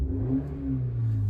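Engine revving of a Maruti Baleno with a 4-cylinder engine, a low, muffled hum that rises and falls slightly, quiet and close, with no voices.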